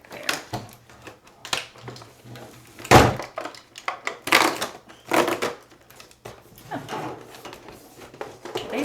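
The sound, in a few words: opening a cardboard advent calendar door and pulling out items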